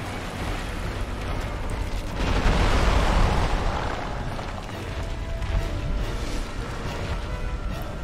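In Dark Souls Remastered, a floor collapses with a heavy rumbling crash that swells to a peak partway through, then settles into a lingering low roar of debris and game ambience.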